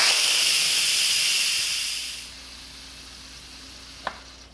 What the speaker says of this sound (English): we're gonna go ahead and release the pressure